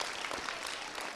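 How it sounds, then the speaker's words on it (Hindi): A brief burst of dense audience applause, a continuous crackle of many hands clapping together, heard on its own. "जोर से तालियां इनके लिए भी।"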